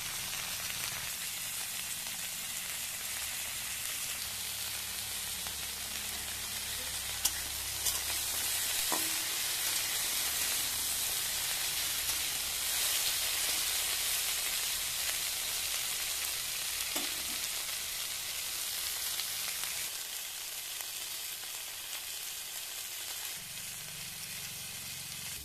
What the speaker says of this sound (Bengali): সমস্ত সবজি আমি ভালো করে ভেজে নিচ্ছি।